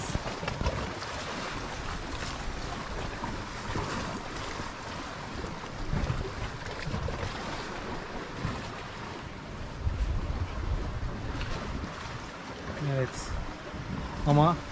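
Choppy sea waves wash and churn continuously, mixed with buffeting wind noise, while voices talk intermittently nearby.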